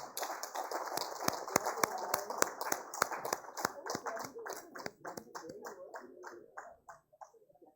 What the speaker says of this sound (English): A big round of applause to the winner, Zindio India Private Limited